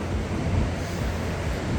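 Atlantic Ocean waves along the coast of Portugal, heard as a steady, dense wash of surf mixed with rumbling wind buffeting the microphone, continuous and unbroken with no voices.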